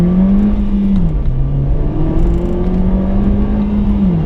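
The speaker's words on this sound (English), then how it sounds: "Let's see how we can do on a 0 to 60. Oh, a lot of wheel spin." A 2015 Nissan Juke Nismo RS, 210 horsepower and front-wheel drive, accelerating hard from a standstill with wheelspin, its engine droning loud and close, pitch climbing through gears with brief dips at shifts.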